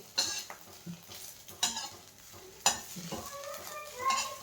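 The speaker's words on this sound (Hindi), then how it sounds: "अब थोड़ा सा ये ब्रेड क्रम्ब्स और गर्म कर लेते हैं" Bread crumbs frying in ghee in a pan, a soft close sizzle broken by several sharp scraping stirs of a spoon against the metal.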